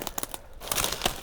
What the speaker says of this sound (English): You hear the crunch of the dead wood.